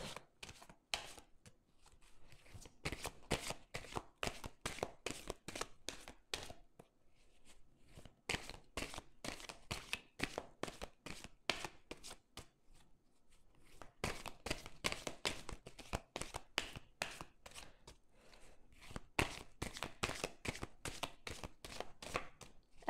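A deck of tarot cards being shuffled and cut by hand, giving soft, close riffling and tapping in three long bursts separated by short pauses, quiet throughout with no voice.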